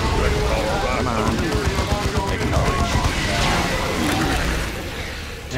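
Chaotic battlefield gunfire from the Dawn of War 2 strategy game, dense overlapping shots and blasts mixed with shouting voices and music throughout, easing slightly near the end.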